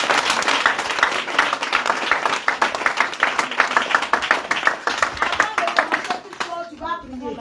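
A church congregation claps and applauds in praise of the Lord, a dense, steady wash of many hands beating close by, tapering off near the end as a voice speaks over it.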